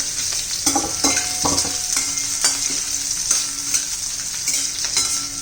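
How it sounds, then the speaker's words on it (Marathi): Onion, garlic and green chilies sautéing in a pan, a close steady sizzle broken by regular scraping stirs of a spatula against the pan, no one speaking. "कांदा चांगला परतून घ्यायचा आहे"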